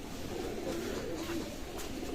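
Pigeons, Pakistani teddy birds, coo steadily in a loft, their low, throaty calls close by and overlapping in a continuous murmur with no talking.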